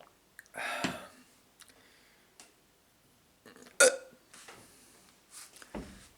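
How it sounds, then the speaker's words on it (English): A person hiccups several times in a quiet room, giving sharp, brief, isolated gulping clicks at irregular intervals, one clearly louder and closer than the rest, with near silence between them. "Oh, I wish my hiccups will go away."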